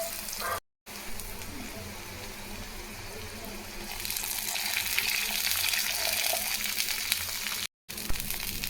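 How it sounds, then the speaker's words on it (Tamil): Water is tipped into a pan of sautéed onions and tomatoes, setting off a loud, steady sizzle and hiss that swells and grows brighter partway through, with no speech. "இப்போ நம்ம தண்ணி சேர்த்துக்கலாம்."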